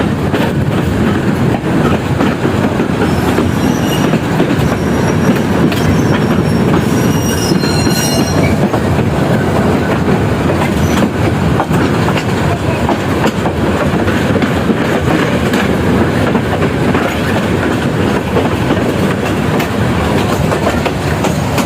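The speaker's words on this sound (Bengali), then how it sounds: "আরেকটা সাইডে দিচ্ছে ট্রেন।" A train passing on the adjacent track during a Dhaka to Mymensingh rail journey, a loud continuous rumble with wheel squeal and clickety-clack that holds steady for over twenty seconds, with no talk.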